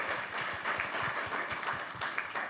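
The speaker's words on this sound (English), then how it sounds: "I think that deserves a round of applause" A conference audience applauds after a panel remark, a steady wash of many hands clapping at moderate level throughout, without speech over it.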